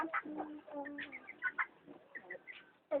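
Pigeons coo and murmur softly in short, low calls, mixed with faint chicken-like clucks and bird chatter, fairly quiet.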